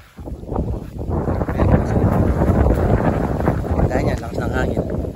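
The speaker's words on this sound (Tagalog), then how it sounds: "Kaya niyan, lakas ng hangin." Strong wind buffets the microphone in continuous rumbling gusts, loud and close, around mulberry and grape plants in a garden, with no clear speech.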